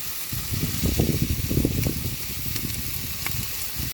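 Dense crackling sizzle of rice frying in a pot at a mountain campsite, steady and close, with scraping stirring noises mixed in throughout.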